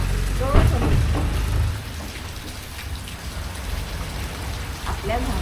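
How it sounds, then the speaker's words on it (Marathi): Steady rain patters on a surface throughout, with a louder rumbling stretch at the start and brief voices in the background. "पाऊस येतोय"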